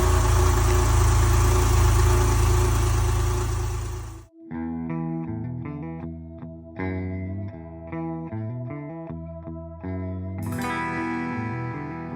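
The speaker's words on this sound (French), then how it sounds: "C'est bien une 911 qui s'échauffe les cordes vocales." A Porsche 911 type 991 Carrera coupé engine warming up gives a loud, dense rumble for about four seconds. It cuts off abruptly, and music follows.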